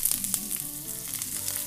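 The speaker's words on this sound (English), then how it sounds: "now we're going to add the scotch bonnet peppers" Scotch bonnet peppers fry in hot sesame oil over high heat, giving a close, continuous sizzle with scattered crisp spits and a few light knocks of stirring, and no talking.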